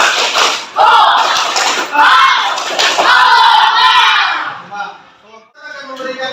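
Classroom of students doing a spirit clap-cheer, the whole class shouting loudly together in a burst of voices and clapping that fades out near the end.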